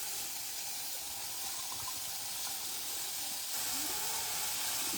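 Beef tacos dorados fry in hot oil with a steady, broad hiss and sizzle of steam that holds evenly throughout and swells slightly near the end, with no talking.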